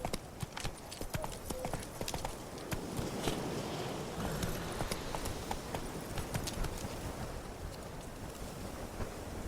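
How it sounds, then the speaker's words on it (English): The horse Roach gallops in The Witcher video game, a fast steady clip-clop of hooves over a continuous bed of wind-like ambient noise. "Run, Roach."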